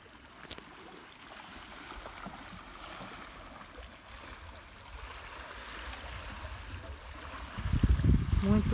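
Water of the Paranapanema river flowing and lapping near the bank, a soft continuous wash that swells into louder splashing near the end, with no voices.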